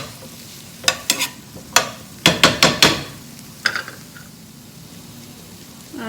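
A spoon stirs boiled, coarsely crushed black chana dal in a pan, giving a handful of sharp scraping knocks in uneven bursts, some quick and close together, over quiet room noise with no talk.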